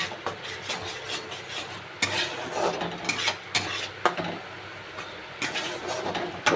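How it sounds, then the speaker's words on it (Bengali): A spatula stirs and sautés food in a pan, making repeated rasping, scraping strokes in uneven bursts. The sound is close and moderately loud, with no talking. "একটু কষে নেব।"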